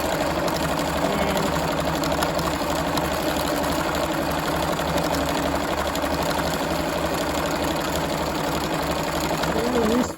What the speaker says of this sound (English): So all I'm doing is just stitching